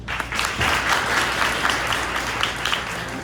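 Crowd at a Port Jefferson village trustee debate applauding candidates, a full steady patter of many hands, loud and close, running unbroken for the whole span without talk.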